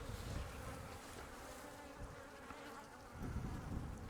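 Honey bees swarm over a hive frame during California beekeeping season, a dense, steady buzz that stays close and continuous, with a few louder low thumps of handling.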